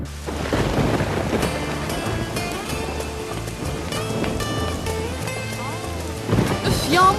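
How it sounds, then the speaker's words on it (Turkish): Steady heavy rain pours down with low rumbling thunder rolling underneath, continuous and close throughout. "yağıyor."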